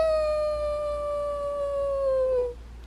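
A dog howls in one long, sustained, slightly falling note lasting over two seconds, close and clear, then cuts off abruptly; no talking.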